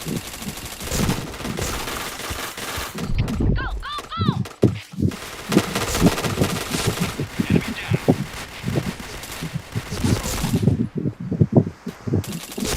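Gunfire in the shooting video game Point Blank, rapid bursts of automatic shots and chained headshot hits, dense and loud, with a brief electronic game tone midway and someone talking over the action.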